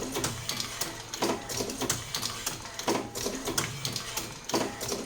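Rhythmic, repeating mechanical clatter and thumps from a new automatic filling machine as it cycles through filling and opening, close by and steady, with a regular beat.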